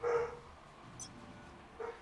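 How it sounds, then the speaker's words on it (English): Dogs bark in a game setting, a short yelp-like burst at the start and another near the end. Both are moderately loud over a low background hum, with quiet between them. "Oh, the dogs are going off."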